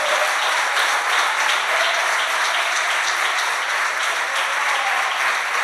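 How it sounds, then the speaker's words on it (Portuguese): Church congregation applauding during a worship service, dense continuous clapping at steady volume with no gaps, filling the room throughout. "Isso, aplauda o nome do Senhor."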